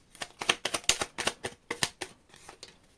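A deck of tarot cards is shuffled up close, giving a series of short, papery riffles and slaps in a steady, uneven rhythm that trails off toward the end.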